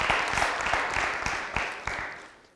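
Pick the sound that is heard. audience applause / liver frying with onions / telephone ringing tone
audience applause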